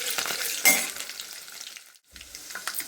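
Chopped onions, seven or eight, frying in a pan of tempering oil for hotel-style tomato dal, a steady close sizzle with a brief louder stir or clatter near the start and a short pause before the frying resumes.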